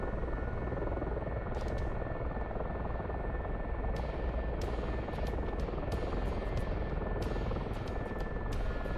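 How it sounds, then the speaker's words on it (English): Mi-24 helicopter in the DCS World flight simulator, a steady droning rotor and turbine roar heard from the cockpit, continuous and even, with occasional faint high clicks. "I'm sitting in a helicopter"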